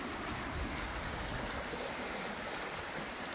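Stream water flowing along the Līgatne nature trails in Latvia, a steady, even rushing wash with no breaks and no voices.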